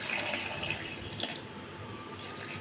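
Water trickles and splashes softly into a mixer jar holding pineapple, sugar and lime juice, a faint, steady pour close by with no talking.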